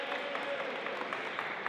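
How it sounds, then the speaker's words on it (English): Crowd applauding at a high school basketball game between Oak Bay and Dover Bay, a steady wash of clapping filling a gym, sustained and moderately loud with no gaps. "Round of applause."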